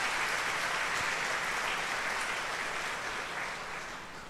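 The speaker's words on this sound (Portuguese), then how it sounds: "Então dá mais uma salva de palmas para Jesus." A congregation applauding during a Holy Thursday Mass in a church, broad sustained clapping that fills the space and slowly fades toward the end, with no talk over it.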